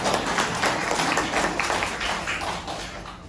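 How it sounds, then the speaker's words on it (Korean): An audience at a business seminar breaks into dense applause, loud and close, with many hands clapping at once and the sound easing off slightly toward the end. "박수 한번 쳐주시죠."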